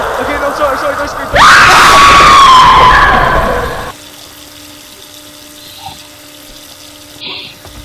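Loud scream from a paranormal horror video game, a sudden shrill burst with sliding pitch lasting about two seconds, followed by quieter room tone and faint game noises.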